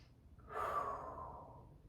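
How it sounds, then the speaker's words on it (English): A single slow, soft breath flows out during a seated chair yoga sequence, faint and close, swelling gently and then fading in a long airy exhale. "Big breath in, big breath out."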